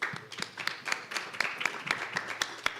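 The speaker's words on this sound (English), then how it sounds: "Please give him a round of applause." A small audience at a fireside chat on livestock and farm-to-fashion gives sparse, distinct claps in an uneven rhythm, fairly quiet and without voices, like a few people applauding in a modest room.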